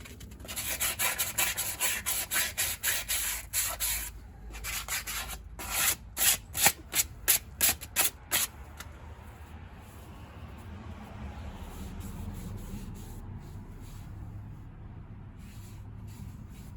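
Rag rubbing and wiping over a 2003 Chevy Silverado 2WD front wheel hub assembly, a run of brisk scrubbing strokes then a rhythmic series of separate swipes, close and loud, fading to a low hum of background noise.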